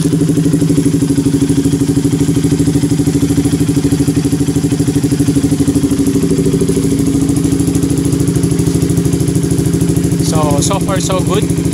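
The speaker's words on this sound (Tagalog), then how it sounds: "Ito yung andar ng motor." A KTM RC 200 motorcycle, treated for a high idle from an oxygen sensor fault, idles loud and close with an even, rapid single-cylinder chug that holds steady throughout. A brief voice or squeak appears near the end.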